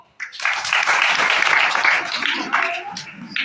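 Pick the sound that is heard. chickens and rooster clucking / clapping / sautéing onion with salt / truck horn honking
clapping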